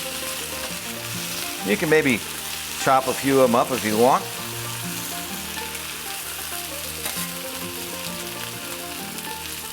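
Corned beef hash patties pressed flat on a hot griddle give off a steady, close sizzle and crackle all the way through, with someone talking over it briefly near the start.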